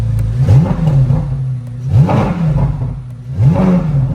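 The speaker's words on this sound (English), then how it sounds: "let's give it a few revs" A 2023 Corvette Z06's 5.5-litre flat-plane-crank V8 revs up three times in a row to about 2,500 RPM, each burst rising in pitch then falling back to a steady idle, close and loud.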